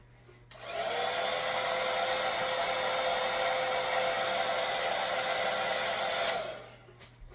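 A hair dryer blasts heat onto a weave closure, switching on abruptly into a loud steady whooshing roar for about six seconds before cutting off, close by with no talking.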